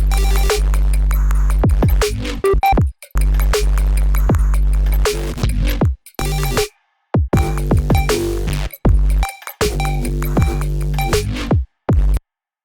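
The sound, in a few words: experimental synthesized noise bass line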